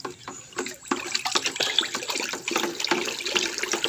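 Hydroponic nutrient solution of Epsom salt and calcium nitrate is stirred in water, giving close, continuous sloshing and splashing with small irregular bursts.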